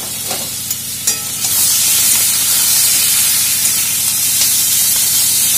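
Green chillies and grated ginger sizzle steadily in a hot pan over low-to-medium heat, a loud continuous frying hiss with faint stirring clicks and no talk.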